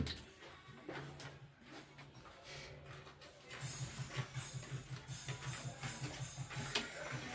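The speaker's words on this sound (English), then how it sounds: "We are stitching with 1/2 inches." A sewing machine stitching the handle of a simple tote bag: quiet, close mechanical whirring, with a fast, even run of rhythmic needle thumps in the second half and no talking.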